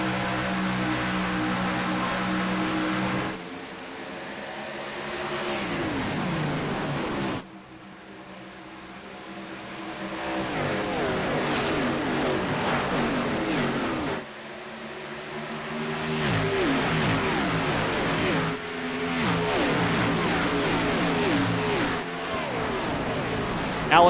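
Race cars roar around Homestead-Miami in a racing video game's playoff event, a dense, continuous engine drone with rising and falling revs as the pack passes, broken by brief drops in level.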